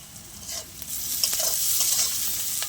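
Chopped garlic and slit green chilies hit hot oil in a pan for a Bengali khoira fish curry, giving a steady close sizzle with light stirring scrapes throughout.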